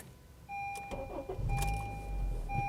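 Push-button start of a 2012 Honda Civic Si with its K24 engine, heard from the cabin: a chime sounds, then a short starter crank and the engine catches into a low, quiet idle.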